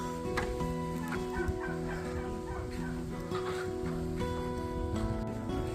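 A flock of chickens being fattened for market clucks continuously on a community allotment, with overlapping calls at close range over a steady low mechanical hum.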